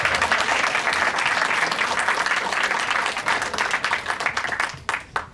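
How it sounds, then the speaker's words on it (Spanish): An audience in Buenos Aires applauds a film director before a screening, a dense, loud wash of clapping that holds steady and then thins into scattered claps near the end. "para quien quisiera pedir por favor un fuerte aplauso"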